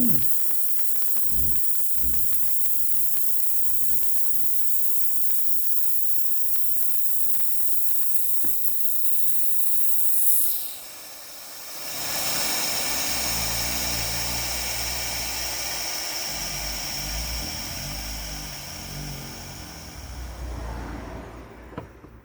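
Air hisses steadily from the open release valve of a Vevor 6 ton air jack, a loud, continuous rush that briefly drops out and then surges back before gradually weakening and tapering off near the end.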